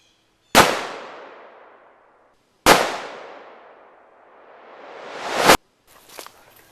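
A Browning A-Bolt rifle in 7mm-08 or .308 fires three loud, sharp shots a couple of seconds apart, each crack followed by a long decaying echo, then a faint handling clatter.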